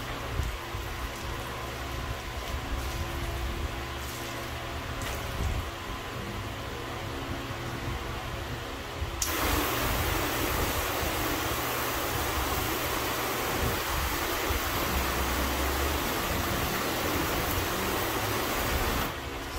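A hose sprays water over a car, a steady hiss of spray that jumps noticeably louder and denser partway through and continues without pause.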